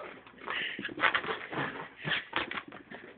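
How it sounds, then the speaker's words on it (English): A small, freshly bathed dog races around on carpet, its claws scratching and pattering in a rapid, busy, uneven scuffle that stays close and fairly loud. "And that noise is her claws on the carpet, scratching up on the carpet."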